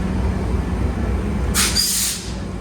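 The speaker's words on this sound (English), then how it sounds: "And then of course the train. That's the TRE." The TRE commuter train at the Fort Worth Central transportation center gives a steady low rumble, and a sharp hiss of air brakes bursts out partway through.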